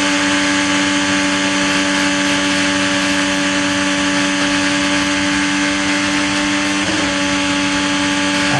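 Steady, loud engine drone from onboard Marco Andretti's IndyCar at the 2012 Indianapolis 500, held high and constant with a brief shift in pitch near the end.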